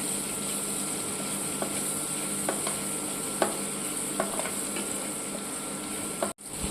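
Onions sauté in a pan for a Kathiyawadi capsicum curry, a steady low sizzle with a few sharp spoon clicks against the pan and one louder knock near the end, no talk.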